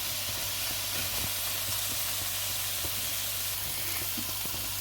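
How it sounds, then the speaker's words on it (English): Onions and tomatoes fry in a pot for a Trinidadian lentil stew, giving a steady, soft sizzle and crackle with occasional faint pops and stirring clicks, heard alone at moderate distance. "My onions and tomatoes and stuff here has been frying for about 3 minutes or so."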